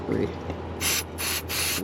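Cleaner sprays into an Evinrude 30hp outboard carburetor in three short hissing bursts of close aerosol, separated by brief pauses, over a low steady hum.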